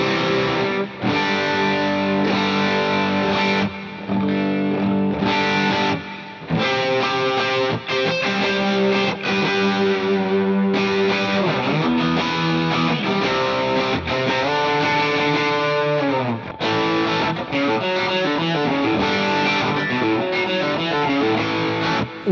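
An overdriven electric guitar played through a Cold Shot overdrive pedal plays gritty, sustained chords and riffs, loud and alone, with no talking.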